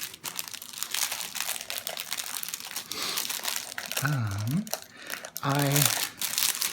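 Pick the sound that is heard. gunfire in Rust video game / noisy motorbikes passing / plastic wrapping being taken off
plastic wrapping being taken off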